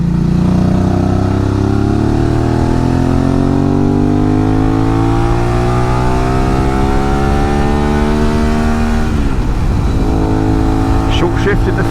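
A Suzuki V-Strom 650 motorcycle carrying a pillion climbs loudly through the revs, its engine note rising steadily until a quick shift into fifth gear drops the pitch, which then starts climbing again over constant wind rush.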